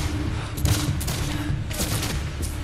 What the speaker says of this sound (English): One fence they're using for cover takes 836 rifle shots.